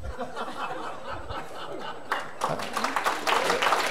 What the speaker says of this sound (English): I've got my applause, so I'm off.